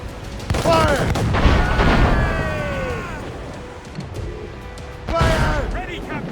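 Ship cannons in Assassin's Creed Rogue boom in heavy blasts during a naval battle, one volley early and another near the end, loud and close, while voices shout over the firing.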